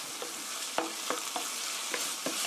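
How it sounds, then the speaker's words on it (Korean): Burdock root is stir-fried in a pan with tomato ketchup, heard as a constant close sizzle punctuated by half a dozen quick spatula scrapes at an irregular pace, with nobody speaking. "볶아주세요."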